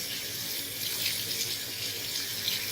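Continuous splashing hiss of running tap water rinsing a flounder, steady and close with no talking.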